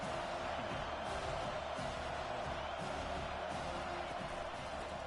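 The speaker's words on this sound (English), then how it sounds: "This crowd bringing the energy and noise" A packed college football stadium crowd at a West Virginia versus Houston game roars in a steady, dense wash of cheering and noise that holds at an even level throughout.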